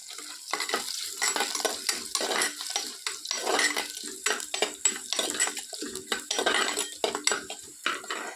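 A spoon stirs fish curry in a pot on a wood-fired stove, with repeated scraping and clinking strokes against the metal in an uneven rhythm, close and clear, over a soft simmering sizzle.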